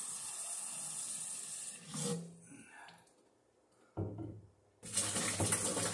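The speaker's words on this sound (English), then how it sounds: "I'm going to put a little hot water in" Hot water poured into a measuring cup while making strawberry wine, a steady hiss of running water in two bursts separated by a quieter gap with faint clinks, fairly close.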